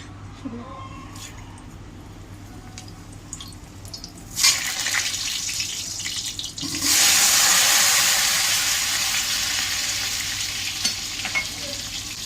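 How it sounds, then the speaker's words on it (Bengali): Potatoes dropped into hot oil in a home kitchen for a village-style chicken dish, with a sudden loud hiss and sizzle that then holds steady and fills the space. "তেল দিয়ে দিয়েছি, তেল গরম হয়ে গেছে। আলুগুলো আস্তে আস্তে করে ছেড়ে দেবো।"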